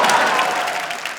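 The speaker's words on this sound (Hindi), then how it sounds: "एक तो इतनी तालियां बज रही थी।" Studio audience applause on a TV quiz show, the hot seat round of Kaun Banega Crorepati: dense, loud, sustained clapping filling the whole moment, easing slightly toward the end.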